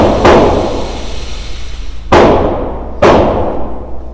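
Three sharp rifle shots fired at a 25-yard target from a rifle resting on a tripod, each a loud close crack with a decaying tail, spaced about two and one seconds apart.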